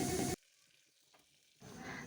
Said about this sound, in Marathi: लगेच मी आमटीला फोडणी देऊन घेत आहे